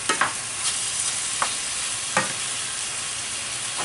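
Beef chunks searing in a hot pan for stroganoff, a soft continuous sizzle broken by a few sharp clicks of stirring, fairly quiet and with no talk.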